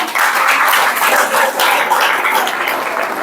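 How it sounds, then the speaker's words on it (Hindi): A room full of people applauds for a child named Noya, dense steady clapping that stays loud and continuous throughout. "चलो ये नोया खातर ताली बजाओ भाई"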